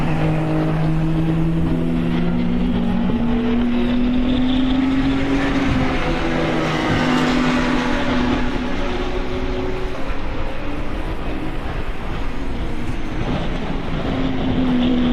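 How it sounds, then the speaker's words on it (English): Onboard with a KTM GT race car at Autodrom Most during a GT Cup endurance race, the engine roars loud and close the whole way, rising and falling in pitch through gear changes and throttle lifts. "looking and hearing the beautiful noise of the KTM"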